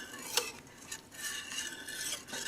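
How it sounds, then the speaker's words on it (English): A Danish dough whisk works through bread dough in a bowl, giving soft, irregular scraping and stirring strokes with a sharper knock near the start, close and moderately quiet, with no voices. "this is a dough whisk or a Danish whisk"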